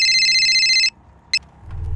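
An electronic phone ringtone sounds in a shop for an incoming call, a bright steady tone that rings for almost a second. A brief chirp follows, then low room noise builds.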